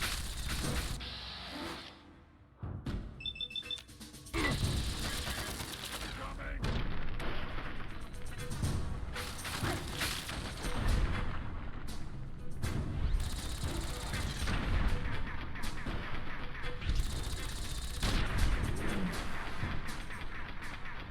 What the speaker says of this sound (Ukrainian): Кидаємо гранату по турелі.